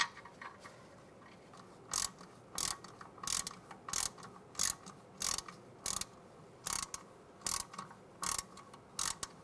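Repeated ratchet clicks on a 2006-2009 Mercedes-Benz E350 rear brake caliper bolt, about a dozen short loud bursts in a steady rhythm, close up with no talk.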